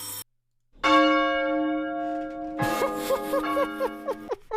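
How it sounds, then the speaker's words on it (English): A church bell notification rings in the Football Manager 2023 video game, a loud sustained chime with a cluster of bright repeated peals layered over it, heard after a brief clipped sound and a moment of silence. "Every time I do the ding, it's a church bell."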